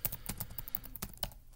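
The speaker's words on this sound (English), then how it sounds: "Start typing and I want to backspace." Quick clicks of typing and backspacing on a computer keyboard in an irregular rhythm, close and fairly quiet, with no talking.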